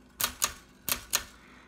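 Four sharp mechanical clacks come from a 1900 Densmore No. 4 typewriter as its keys strike and the escapement advances in extended, double-spaced mode. The clacks are close and crisp, spaced in two pairs, over a quiet room.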